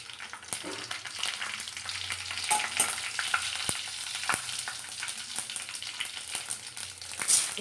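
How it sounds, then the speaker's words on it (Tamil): Mustard seeds spluttering in hot oil, with scattered sharp pops and crackles over a steady sizzle for several seconds, close and moderately loud, no voices. "கடுகு பொரிஞ்சதும்"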